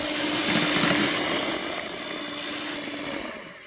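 An electric mixer beats thick pumpkin sweet, cooked on a wood-fired stove, with a steady whirring drone close by that eases slightly partway through, with no talk.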